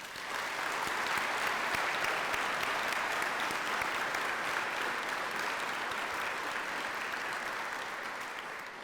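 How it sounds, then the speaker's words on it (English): Diners at a chamber of commerce annual dinner give a steady, even round of applause that fills the room from a moderate distance, then eases slightly toward the end. "Let's all give them one more round of applause."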